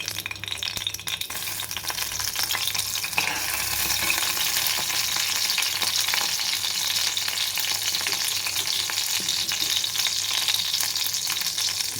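Green chillies fry in hot oil inside a pressure cooker, giving a steady, close, loud sizzle with a faint stirring clatter and no voices.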